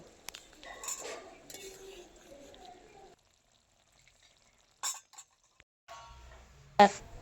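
Fish being lifted out of a pan with a metal utensil, a few scattered scrapes and clinks separated by quiet gaps, ending in one sharp clink, with faint sizzling early on.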